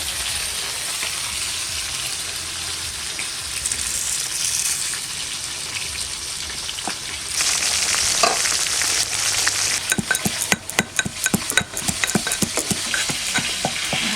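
Pomfret fish fries in oil with a broad hiss that swells louder partway through, then breaks into busy crackling pops and spatters toward the end.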